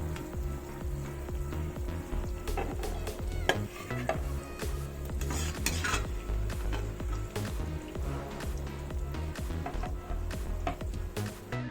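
Potatoes and onions fry in a pan for a Spanish omelet, a steady sizzle with a spoon stirring and scraping against the metal, close and continuous throughout.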